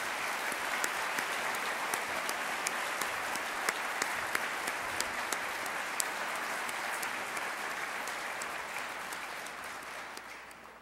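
Sustained applause from a ceremony audience at a tribute event honoring a New Hampshire figure, steady dense clapping filling the whole stretch at an even, fairly loud level with no talk over it.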